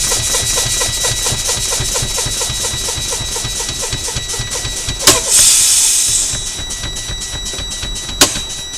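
A truck's air brakes are fanned, giving a rapid rhythmic pumping hiss, followed by two sharp pneumatic pops as the park brake and trailer air supply valves release, all heard close inside the cab.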